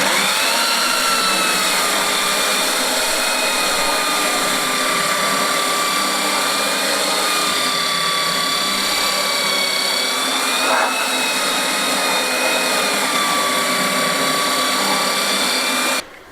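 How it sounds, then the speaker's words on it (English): A belt sander runs at top speed outdoors, sanding down an old wooden table with a belt gummed up by the old finish. It gives a loud, steady whining roar with high tones that barely change, then stops abruptly at the end. "I brought it outside to sand it down."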